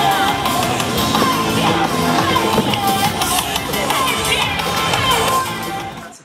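A crowd at the Krap Invaders tricking event, a slant wall tricking session, cheering and shouting loudly and continuously with whoops and yells mixed in, fading out at the end.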